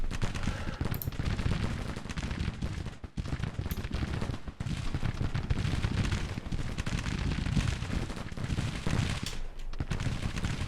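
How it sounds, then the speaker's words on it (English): Dense, continuous rolling musket fire from several brigades in a Civil War battle in Grand Tactician, a loud crackling fusillade with overlapping shots and dull booms that barely lets up. "These gents won't last long with 3 different brigades firing upon them"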